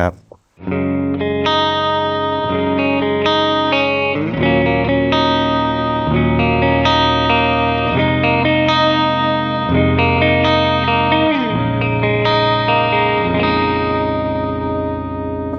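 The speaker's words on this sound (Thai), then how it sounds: "เดี๋ยวเรามาฟังเสียงคลีนที่พี่น็อตชอบกันครับ" An electric guitar plays sustained chords and ringing notes on a clean tone with reverb, close and loud, each chord blooming and decaying into the next over a steady stretch with no talking.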